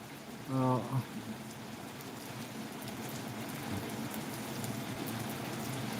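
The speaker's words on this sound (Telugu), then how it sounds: "ఇది ప్రస్తుతం మన ఊర్లో కురిసిన వర్షం ఇది" Steady normal rain falls over a village in a soft, continuous hiss, after a brief tonal sound at the start.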